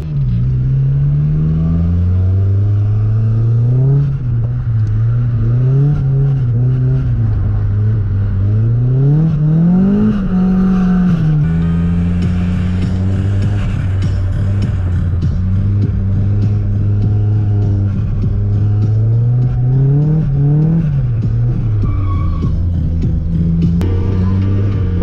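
A Nissan S15 with a twin-turbo RB30DETT engine drifts on a track, its exhaust droning loud and continuous, the revs climbing and falling repeatedly through gear changes across the whole stretch, with no talk.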